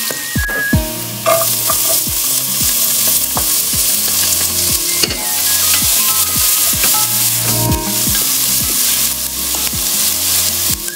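Garlic, onion and tomato sauté loudly for kabsa, a dense, continuous sizzle and crackle close up, with occasional utensil clinks and stirring knocks layered over the frying.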